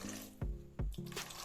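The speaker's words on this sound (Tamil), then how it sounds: "கொஞ்சம் ஒரு 1/4 கப் தண்ணி ஆட் பண்ணிக்கோங்க" Water poured into a pan of spicy egg masala curry, heard as two short low splashing gulps with a brief wet pour after, close by, no talk.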